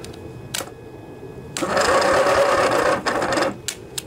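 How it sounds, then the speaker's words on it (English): A Briggs and Stratton 19.5 twin-cylinder engine, stored and tampered with, cranks on its starter motor in a short whirring burst of about a second and a half, framed by brief clicks before and after. "we're at least getting it to turn over for a little bit"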